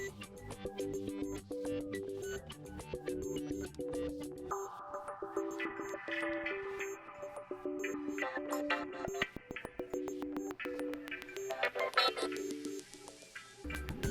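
Music plays through the single bottom mono speaker of a Samsung Galaxy A04s phone, a steady melodic track with tonal notes and beats running throughout at moderate volume.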